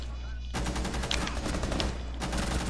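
Rapid bursts of gunfire from a zombie shooter video game, loud and continuous, with a short pause before the shots resume.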